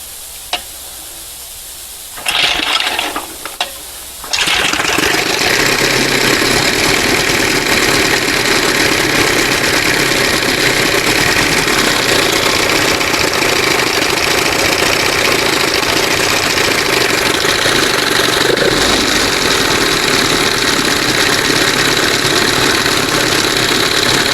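A 1971 Johnson 20 HP outboard motor catches after a brief cranking burst, then runs steadily with a loud, continuous, buzzing drone for about twenty seconds, a short dip near the end.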